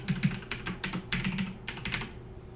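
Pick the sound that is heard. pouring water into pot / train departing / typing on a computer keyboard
typing on a computer keyboard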